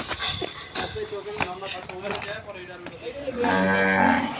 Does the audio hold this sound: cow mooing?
yes